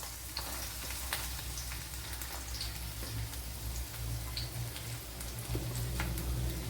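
Sliced onions fry in a pan after small shallots, giving a quiet, continuous sizzle with occasional faint pops and ticks.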